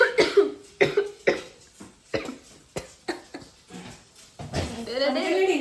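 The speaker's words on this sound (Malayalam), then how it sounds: "ചുമക്കല്ലേ" A string of harsh coughing fits, around eight sharp bursts in uneven rhythm, close and fairly loud in a home kitchen where country chicken curry is being made, trailing into a voice at the end.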